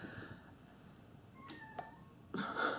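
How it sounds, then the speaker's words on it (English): Two short, faint meows from a cat at a closed door rise over quiet room tone, followed by a brief rustle. "And my cat is crying at a closed door."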